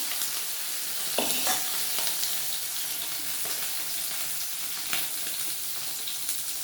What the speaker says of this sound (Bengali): এবার মাছগুলো আমি বেশ ভালো করে ভেজে নেব।